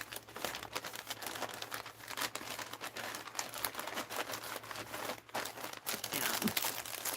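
Papers and small items are slid back into a large paper envelope, giving continuous close crinkling and rustling with brief crisp rattles throughout, fairly quiet.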